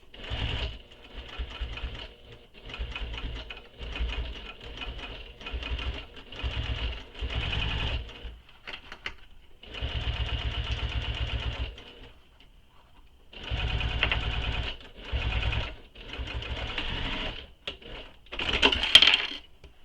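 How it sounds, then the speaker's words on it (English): Sewing machine top stitching a bag, running in repeated bursts of rapid mechanical stitching separated by short pauses, close and fairly loud. "So now we're going to top stitch this."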